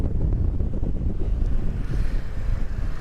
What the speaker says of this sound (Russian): Сейчас ветер сильный.